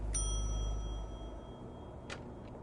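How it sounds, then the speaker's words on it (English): A front desk bell in The Wolf Among Us video game gives one clear ding that rings out over a low hum, followed by a second, softer ring near the end. "It's just a bell."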